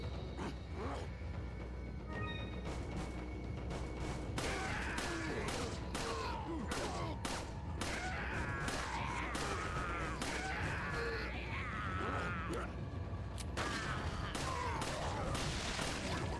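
Gunfire in the video game Resident Evil 4, a series of sharp irregular shots and clanks over a low background rumble, with people talking faintly in between.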